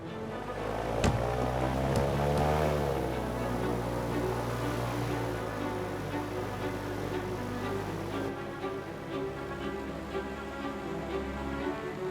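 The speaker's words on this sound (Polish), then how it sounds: "Ogromne śmigło pchające, napędzane 400-konnym zmodyfikowanym silnikiem samochodowym, sprawia, że wyposażony w płozy hydrokopter sprawnie sunie po lodzie" A hydrocopter with runners glides over sea ice, its huge pusher propeller driven by a modified 400-horsepower car engine giving a steady, loud droning hum with a tonal whine that holds throughout.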